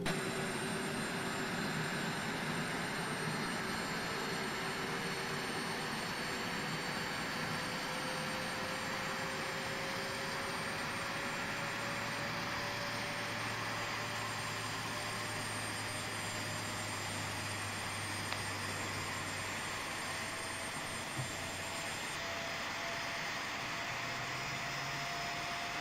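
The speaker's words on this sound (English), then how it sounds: "Engine number 2 is coming on. Check out those really nice sounds." In the X-Plane 12 flight simulator, the jet engine of an IXEG Boeing 737 spools up with a steady roar and a slowly rising whine that holds constant and loud throughout.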